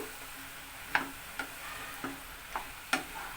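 A spatula stirs a bottle gourd mixed-vegetable curry cooked in a little oil: five sharp knocks and scrapes against the pan, spaced unevenly, over a soft low simmering sizzle.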